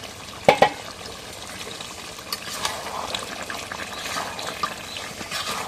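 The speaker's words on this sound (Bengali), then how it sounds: "এখন জলে পানি দিয়ে" Two sharp clanks at the start, then water splashing and burbling as it is poured into a pot of browned chicken and potatoes, close by.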